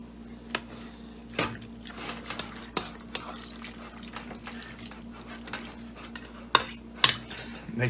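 Chicken pot pie filling is stirred with a utensil in a bowl, giving irregular clinks, taps and soft squishy scrapes at close range, fairly quiet with scattered sharper knocks.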